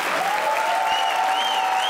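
A studio audience at a comedy talk show breaks into dense, continuous applause, loud and steady throughout, with a faint tonal whistle or music line running underneath.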